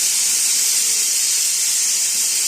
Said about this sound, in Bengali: অপরদিকে আমাদের কুকার থেকে চারটে সিটে হয়ে গেছে